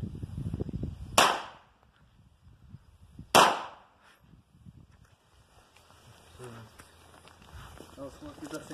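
Two sharp pistol shots crack at a shooting range, a couple of seconds apart, loud and close, with people talking before and after.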